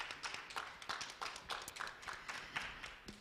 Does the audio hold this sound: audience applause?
yes